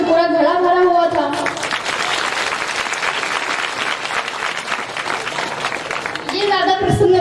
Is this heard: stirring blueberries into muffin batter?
no